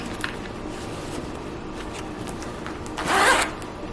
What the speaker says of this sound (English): So it has that top zipper